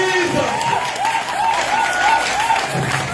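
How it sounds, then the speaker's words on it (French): A church congregation claps in a sustained burst of applause, with a voice speaking over it and rising and falling tones running through the crowd noise. "Acclamons le corps du Seigneur Jésus-Christ."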